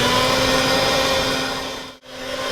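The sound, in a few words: mixer creaming sugar, butter and shortening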